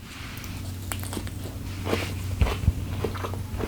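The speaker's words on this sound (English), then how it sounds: "You've got that crunch from the radish and from the roasted rice." Crunchy bites of a Thai dish topped with lime-pickled radishes and roasted rice, two sharp close crunches near the end over a low background hum.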